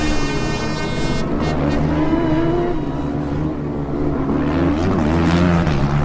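Formula Student race cars on an endurance track sweep past through a final horseshoe, a steady, loud engine drone with a whining tone that rises and shifts over several seconds, no speech.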